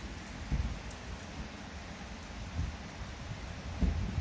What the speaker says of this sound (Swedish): Skönt att höra regndropparna faktiskt.